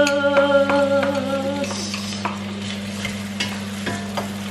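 Garlic and onion sautéing in a pan give a continuous sizzle with a few stirring scrapes and clinks, close by, over a steady low electrical hum with a brief tonal whine at the start; no one speaks.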